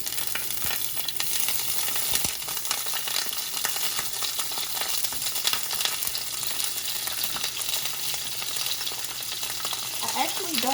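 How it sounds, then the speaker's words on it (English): Asparagus and minced garlic in a hot pan over medium heat, giving a steady, dense sizzle throughout with scattered pops and crackles and a faint low hum. "Then I add my asparagus directly to the heat."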